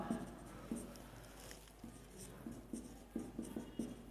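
Chalk or marker writing on a board during a thermodynamics lecture, a run of short scratchy strokes in an uneven rhythm, fairly faint, alone with no talk over it.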